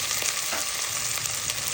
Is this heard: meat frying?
yes